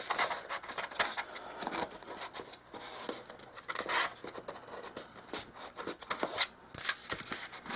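Paper corners being creased and folded for dollhouse miniature kitchen cabinets, soft crinkling and scraping strokes in quick irregular bursts, close and quiet.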